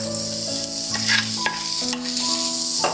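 Chopped onion sizzles in hot olive oil in a frying pan while being stirred, a bright steady crackle with brief louder bursts, and a sustained musical tone underneath.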